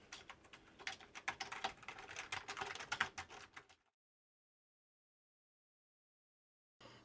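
Keys clatter in quick irregular bursts on a Commodore Plus/4 computer keyboard during a restoration, close and crisp for several seconds before cutting to silence, with a faint return at the very end.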